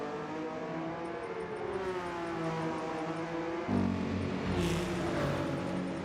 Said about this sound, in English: they would have changed the sound of the car